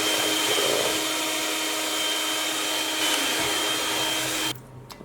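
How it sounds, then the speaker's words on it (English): An electric beater runs steadily through a chocolate and butter mixture for a Cadbury chocolate mud cake, a loud continuous whirring motor hum that stops abruptly near the end. "I'm going to run the beater now"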